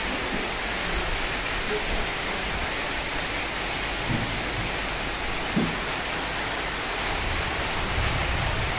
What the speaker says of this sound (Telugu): వర్షం పడిపోతుంది ఫుల్గా.